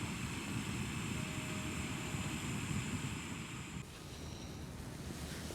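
A Jetboil camping stove burner heats water for a brew on a dark winter night at a wild camp in Northamptonshire woods, giving a close, steady roaring hiss that drops slightly in level near the end.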